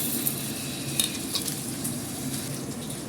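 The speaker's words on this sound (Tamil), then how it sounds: "இப்போ வந்து நம்ம வெங்காயம் வதங்கிட்டு இருக்குது" Onions sauté in a pan for a coriander-onion thokku, giving a steady close sizzle with a few light stirring clinks and no voices.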